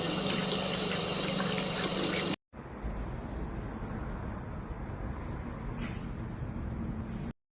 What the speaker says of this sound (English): We're giving it a good rinse to remove any leftover copper solution and residue.